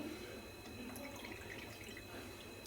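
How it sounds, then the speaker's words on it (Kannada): A steady, continuous trickle of water pouring into flour, with no pauses and no talking. "ನಾನಿಲ್ಲಿ ನೀರನ್ನ ಆ್ಯಡ್ ಮಾಡ್ಕೊಳ್ತಾ ಇದ್ದೀನಿ"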